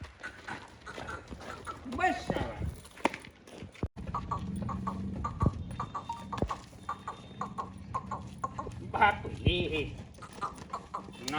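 A Kathiyawadi mare's hooves clip-clop on the ground during horse dance training, in irregular clusters of thuds and steps, while people talk throughout and other animals call faintly.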